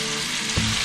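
Chicken pieces for Chicken Changezi shallow-frying in oil in a kadai, a loud, close, continuous sizzle with a brief burst of stirring movement.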